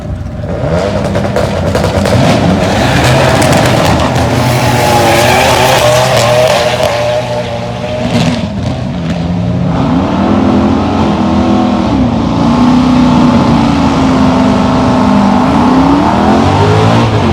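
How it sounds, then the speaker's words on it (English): A Dodge Durango SRT runs a quarter-mile drag race, a loud, close engine roar rising through the gears with tire squeal, a brief dip partway and heavy revving to the end. "All right, it looks like we have a Durango SRT."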